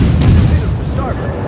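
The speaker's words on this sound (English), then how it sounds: "he hit me with torpedoes" Torpedo hits strike a warship in the World of Warships video game: a rumbling barrage of heavy, close booms and blasts that rolls on continuously for the whole moment, with a brighter crack early on.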